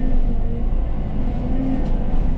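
Bulldozer engine working on site, a loud, steady low diesel rumble with slight surges in throttle over a couple of seconds, heard alone without talk.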